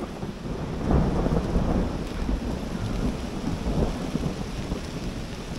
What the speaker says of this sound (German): Auf jeden Fall blitzt und donnert das hier jetzt gerade und jetzt kommt Regen und so.